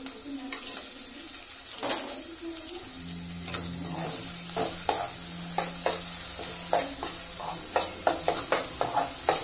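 Onions sizzling in hot oil on low heat for a chicken curry, a steady frying hiss broken by frequent scraping and stirring clicks of a spoon in the pan.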